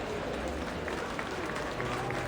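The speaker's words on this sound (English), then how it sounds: "The crowd gets even more worked up. Cheers bubble up, like shaken cans of cola." In the video game Reverse 1999, a crowd cheers and applauds in a continuous, fizzing wash of claps and shouts, a steady moderate roar throughout.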